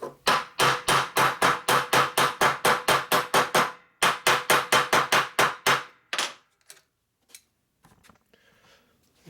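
Rapid metallic hammer taps strike a Harley Linkert carburetor ratchet lid, two quick runs of about a dozen evenly spaced blows each with a brief pause between them, then a few scattered faint knocks.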